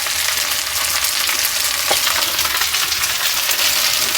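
Rice stirred in a hot pan with ajwain, a loud dense sizzle and crackle running steadily and close throughout, with faint scraping of the stirring and no voices.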